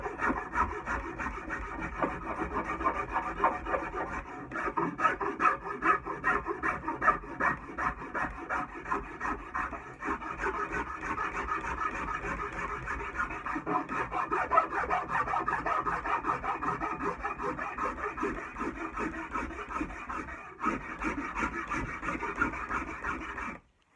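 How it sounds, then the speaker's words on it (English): A French curve rasp works a wooden handle in steady, continuous back-and-forth strokes, the scraping close and fairly loud throughout with no voices. "So wrap up with a French curve, smoothing it out."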